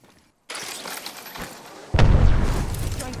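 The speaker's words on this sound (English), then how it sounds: "Throwing Archstar." Arc Star electric grenade in a sci-fi battle royale game, a brief hiss and thud after a short silence, then a loud crackling burst that lingers, close and intense.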